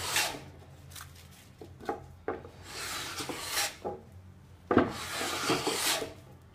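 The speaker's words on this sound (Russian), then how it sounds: "Хочу, чтобы было видно место с сучком и как рубанок, в общем-то, по нему идет без каких-либо" A Japanese hand plane takes repeated shavings across a wooden workpiece with a knot, each stroke a close, rasping swish, with short pauses between strokes.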